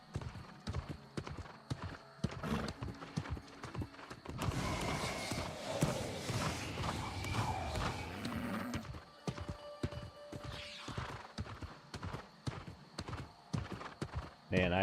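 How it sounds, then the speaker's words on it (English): Steady clip-clop of a slow horse's hooves at a walking pace in the video game New World, briefly masked mid-way by a burst of louder mixed noise and talking. "I had forgotten what it was like to have a slow horse"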